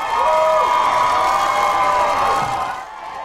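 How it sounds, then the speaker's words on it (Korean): Fans cheering loudly and steadily as Prince Harry appears before his wedding, with a dense mass of shouts and whoops holding for about three seconds before easing off slightly. "결혼식을 앞둔 해리 왕자가 모습을 드러내자 팬들이 환호합니다."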